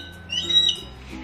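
A mountain eagle gives one harsh, fairly close squawk in the middle of the clip over a low background hum.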